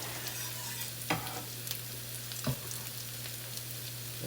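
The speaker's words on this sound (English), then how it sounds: "Let me just stir my onions up a bit." Onions sizzle steadily in a frying pan on the stove while being cooking for salisbury steak, with a steady hum underneath and two sharp scrapes of a spoon stirring them.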